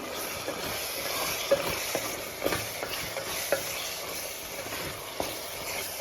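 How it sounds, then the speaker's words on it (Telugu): Masala fries in oil in a pan for village-style natu kodi pulusu, a country chicken curry. A soft, steady sizzle runs throughout, broken by occasional scraping stirs from a spoon. "బాగా మసాలా అంతా ఆయిల్లో ఫ్రై అవ్వనివ్వాలి"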